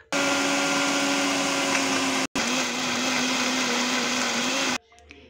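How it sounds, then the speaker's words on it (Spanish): A blender whirs steadily at full power, blending soaked seeds with their water, lemon juice and honey. The motor cuts out for an instant midway, then runs on for a few more seconds before stopping abruptly. "esa misma agua con las semillas es la que vamos a introducir en la licuadora"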